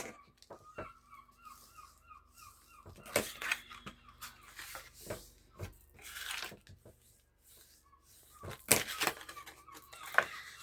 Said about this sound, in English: Can you hear the seagulls outside?